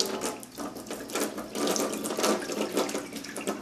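Water pours steadily from the spout of a handmade ceramic teapot, a continuous close splashing stream with no talking.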